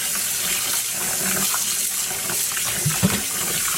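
Yarn being rinsed and washed by hand in a sink with dish soap, running water splashing and gurgling steadily throughout, with a few louder sloshes near the end and no voices.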